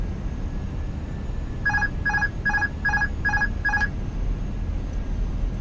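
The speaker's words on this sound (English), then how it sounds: "Oh, that turned the autopilot on." An autopilot engaging in a Fenix A320 cockpit in Microsoft Flight Simulator, heard as six evenly spaced electronic chime tones in a quick regular series over a steady cockpit hum.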